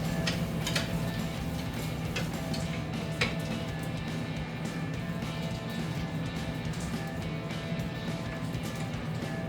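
Hand wrench turning brake caliper bolts on a Jeep Wrangler JK, a quiet run of rapid ratchet clicks in a steady rhythm, close and faint over a low background hum.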